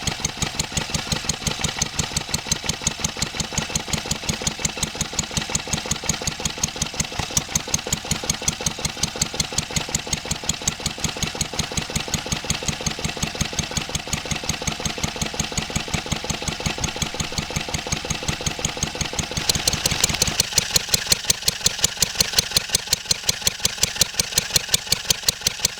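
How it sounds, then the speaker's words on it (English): A 1954 Wolseley WD8 vintage stationary engine runs alone with a rapid, regular chugging beat, held down slightly on its governor, steady and close, with a brief burst of louder hiss near the end. "I shut the engine down a little bit on the governor."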